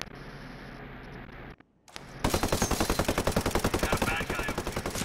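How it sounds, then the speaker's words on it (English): In Ghost Recon Breakpoint PvP, after a brief drop to near silence, rapid automatic gunfire erupts in a fast, steady string of loud bursts that continues to the end. "I hear gunfire."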